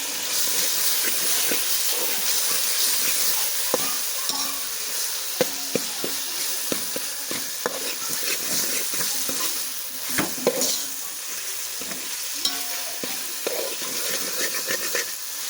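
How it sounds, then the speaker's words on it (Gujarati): Green onion and gathiya being stirred with turmeric in a frying pan, a steady sizzle and hiss with scattered scraping clicks of the spoon against the pan throughout, close and alone. "પછી તેમાં આપણે હળદર નાખી દેવાની છે અને મિક્સ કરી લેવાનું છે હળદર નાખીને"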